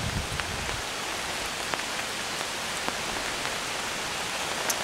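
Steady rain falling in Chelsea, Alabama, a soft continuous hiss with occasional louder individual drops, heard alone without voices.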